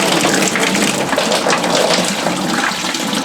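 Dirty coolant gushes out of a Peugeot Boxer van engine in a loud, continuous rushing splash that stays steady and heavy throughout, with no voices over it.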